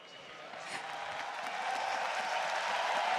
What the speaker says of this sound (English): Cheering for the analyst desk.